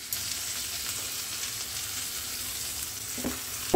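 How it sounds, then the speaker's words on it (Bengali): Mustard greens puree hits a hot pan and sizzles in a steady, close frying hiss with faint stirring, ending in a brief clink. "এবারে শাকের পিউরিটা ছেড়ে দিচ্ছি"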